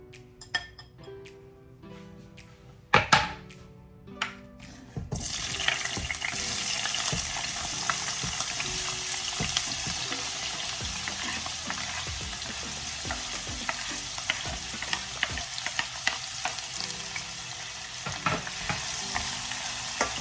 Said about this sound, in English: now I am going to get started to fry up my seasoning